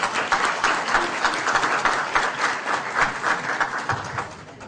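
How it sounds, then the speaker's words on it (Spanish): An audience at a talk on collaborative networks for solidarity-economy businesses claps in welcome, giving a steady, moderately loud wash of applause that continues throughout without pause. "Recibámoslo con un aplauso de agradecimiento y bienvenida."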